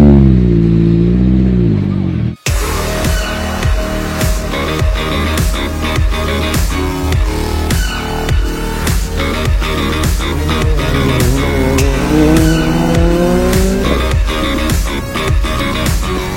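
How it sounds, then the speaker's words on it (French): A Citroën C3 R5 rally car races, its engine rising and falling in loud, repeated gear-change sweeps. A sharp cut occurs early on, and faint voices can be heard under the engine noise. "Voici pilote CHL Sport Auto avec la Citroën C3 R5"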